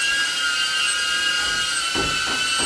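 A DJI Avata FPV drone in flight gives a steady, high-pitched propeller whine, close and continuous, with a few low thumps near the end.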